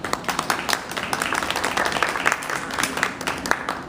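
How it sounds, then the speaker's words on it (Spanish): An audience claps to welcome guests on a Puerto Rican podcast episode, a dense, even round of hand claps at moderate distance, steady throughout with no talk over it. "Así que le damos la bienvenida y con un aplauso a los caballeros que tenemos aquí esta mañana."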